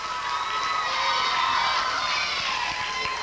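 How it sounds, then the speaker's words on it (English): A game show studio audience on a 1989 children's program cheers and shouts over a steady crowd roar, with a bright, sustained mass of voices and scattered claps lasting a few seconds. "Nice round of applause."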